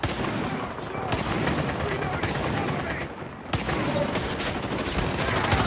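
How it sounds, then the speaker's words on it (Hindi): Heavy gunfire in Call of Duty Mobile multiplayer, a dense continuous barrage of loud shots with a few sharper cracks standing out, close and sustained throughout the clip. "उनकी फायरिंग बहुत तगड़ी है"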